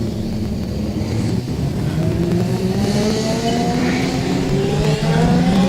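Speedway race cars on hot laps at Lake Liddell Speedbowl roar steadily, engines revving and climbing in pitch as the pack passes, loud and continuous with no talk.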